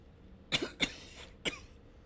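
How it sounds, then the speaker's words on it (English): Three sharp coughs, two close together then one more after a pause, fairly near and otherwise quiet. "Cannot get rid of this cough."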